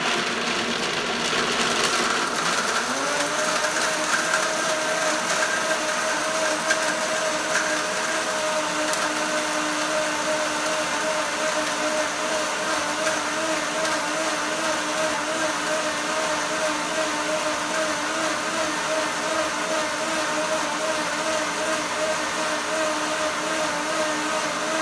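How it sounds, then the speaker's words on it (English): A high-power Vitamix blender whirring a cup of almonds with water into almond milk: a loud motor rising in pitch over the first few seconds, then holding a steady, continuous roar for the rest of the clip. "I do it in a Vitamix, really high power"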